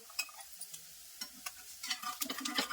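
Bun dosas made from wheat rava crisping in hot oil in a pan, giving sparse, soft sizzling crackles with intermittent scraping and tapping that grow busier toward the end.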